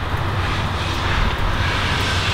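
Steady, close engine drone from a 2010 Harley-Davidson Fat Boy Lo fitted with a blacked-out Vance & Hines exhaust, a continuous low rumble idling without a break.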